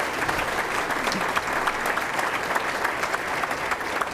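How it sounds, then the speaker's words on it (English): Banquet audience applauding its donors at a scholarship dinner, a steady dense wash of many hands clapping throughout, fairly loud and close, with no talk over it. "Let's give them all a huge round of applause."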